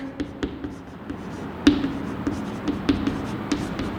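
Writing on a board during an English lecture: short scratchy strokes and light taps repeat irregularly, close and fairly quiet, with no clear talking.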